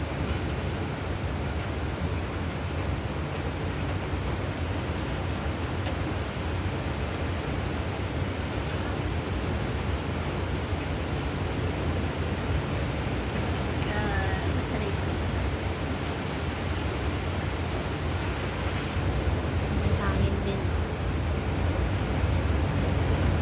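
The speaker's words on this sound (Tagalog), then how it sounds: "Malakas yung hangin sa taas, ano?" A constant heavy roar of Signal No. 10 typhoon wind, broad and unbroken, rushing steadily throughout with no pauses.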